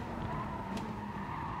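Viper race car braking hard into a corner in a racing video game, a steady tire skid over the engine drone for a moment, close and continuous.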